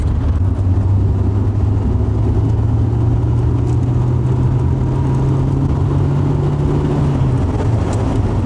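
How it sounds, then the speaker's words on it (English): Steady mid-pitched engine hum and road rumble from a Rover 820 car while driving on a long road trip, continuous and fairly loud, with the engine note holding steady before dropping near the end. "I quite like the noise this engine makes as well"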